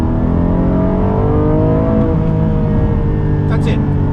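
A Porsche 718 Boxster Spyder's engine revs hard in second gear toward 6,500 RPM, a loud, sustained, rising wail that fills the whole stretch close to the listener.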